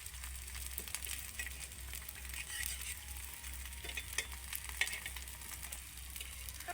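A quiet, even sizzle from rice and potato snacks frying in small batches on a wide tawa, with scattered faint pops and spatula scrapes over a low hum.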